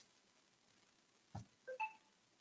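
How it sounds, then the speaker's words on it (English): A few short electronic notification tones from a phone, a brief blip followed by two quick rising beeps, faint against a quiet background with no talk. "Ignore the notifications on my phone."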